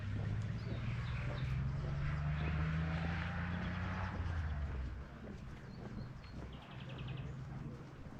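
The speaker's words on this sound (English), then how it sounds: "Lovely singing of the birds." Birds singing outdoors along a rural walking route, scattered chirps and calls over a steady low drone and background hum, with a faint rhythmic trill appearing later.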